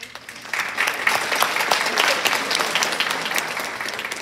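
An audience at a school honors awards ceremony breaks into applause. It begins softly, quickly fills out into steady, moderately loud clapping with a few sharper claps, and carries on without speech.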